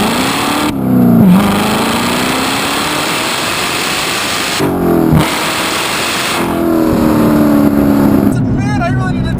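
A 2019 Chevrolet Corvette ZR1 with a manual gearbox revs hard and loud, climbing steadily through the gears with brief dips at each shift, close and powerful throughout.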